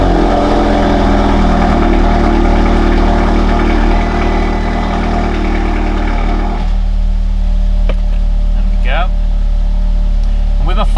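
A 2015 Audi TT MK3 engine idles steadily up close with a low, continuous rumble, with brief clicks and squeaks near the end.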